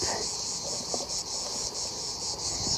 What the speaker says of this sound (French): Il y a des guêpes.